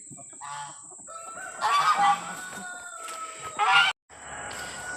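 Barnyard fowl including a fuzzy Silkie chicken make close, loud clucks and honking calls in short bursts with a crowing note, over a steady high-pitched hum in the background.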